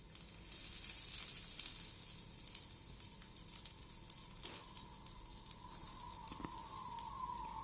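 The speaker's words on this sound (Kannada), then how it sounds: "ಈ ರೀತಿ ಹಾಕ್ಬಿಟ್ಟು ಅದನ್ನು ಚೆನ್ನಾಗಿ ಫ್ರೈ ಮಾಡ್ಕೊಳ್ತೀನಿ." Bitter gourd fries in hot oil in a pan, giving a steady soft sizzle and crackle with occasional small pops, fairly close and alone without talk.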